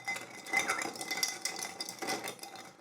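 A golden teaspoon clinks and scrapes inside a cup while mixing kilju, the Finnish sugar-and-yeast drink, with quick light metallic taps throughout.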